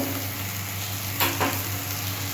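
Curry for a potato and egg-fritter jhol sizzles steadily in a pan after water and Kashmiri chili powder go in, a continuous close frying hiss with a couple of brief louder spits midway.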